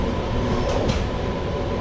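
A passenger train standing at platform 2 of Sitafalmandi station on a Secunderabad to Vijayawada service, giving a steady close rumble with brief hissing bursts, no talk.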